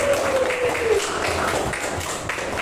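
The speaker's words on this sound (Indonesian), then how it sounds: "Kasih tepuk tangan buat Sultan dulu" Classroom applause for a student named Sultan after he recites Al-Baqarah verse 250, with a steady wash of clapping from many pupils at a fairly even level throughout.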